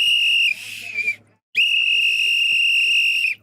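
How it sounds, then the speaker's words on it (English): A referee-style whistle is blown for a violation, two long shrill blasts close to the listener, the second longer than the first, separated by a brief pause. "Where my whistle at?"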